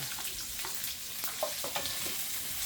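Garlic and onion sizzle in a hot pan as they are stirred, a dense steady frying hiss broken by light scraping and clicks of the utensil.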